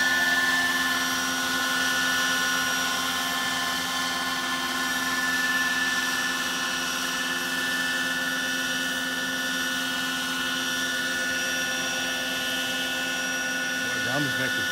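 A Hughes 500 model helicopter flies on its maiden flight with a steady, sustained rotor and turbine whine and strong tonal bands, holding at an even level throughout.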